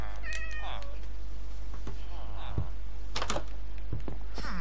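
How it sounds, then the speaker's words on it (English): Minecraft cat meowing in short, high, clear cries, several calls spread across the clip over a low steady hum, with no talking. "I need raw fish in order to tame a cat"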